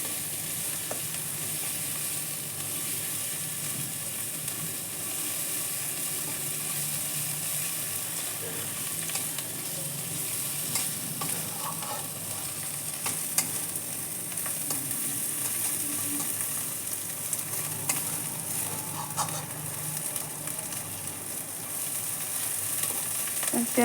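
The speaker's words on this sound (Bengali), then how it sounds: "এইভাবে পেঁয়াজটা ঘষে ঘষে নাড়তে হবে" Onions fry in oil with a continuous close sizzle while being pressed and stirred, with repeated spatula scrapes and occasional taps against the pan.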